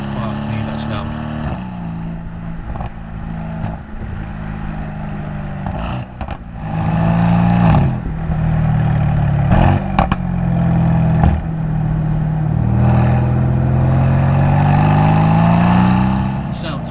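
Mercedes-AMG C63 S engine revving hard and accelerating, a loud rising roar that swells and builds from about six seconds on, with brief lifts and gear changes between pulls.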